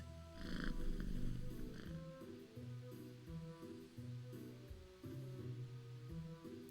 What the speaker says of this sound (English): the cat continues to purr loudly